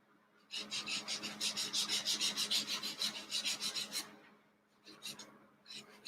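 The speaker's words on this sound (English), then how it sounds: "A little sanding right here. Kind of buffs it in the edges a little bit." Fine-grit sanding on the tissue-covered edges of a wooden Nieuport 17 model aircraft, a steady run of quick rasping back-and-forth strokes up close, then a pause and a few shorter strokes.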